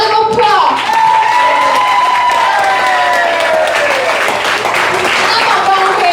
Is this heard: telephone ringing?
no